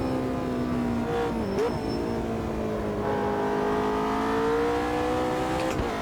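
A GT3 race car lapping the Nürburgring Nordschleife in Automobilista 2, its engine holding a steady high whine that dips briefly on a shift, then climbs and swells as it pulls through the gears, loud and continuous with no talk.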